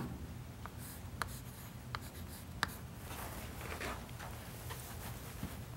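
Chalk or marker writing on a board during a number theory lesson on divisors and the Euclidean algorithm, heard as soft scratchy strokes with a few sharp taps, steady and close against a quiet room.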